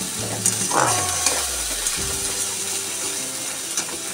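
Ginger-garlic paste fries in hot oil in a kadai, a steady close sizzle with scraping stir strokes running throughout and a low sliding tone near the start.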